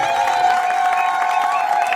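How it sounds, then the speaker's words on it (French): Wedding guests cheering and applauding at a reception, a crowd mix of clapping, whoops and shouts over a sustained tone, moderately loud and continuous. "Est-ce qu'on peut applaudir très fort, mesdames et messieurs?"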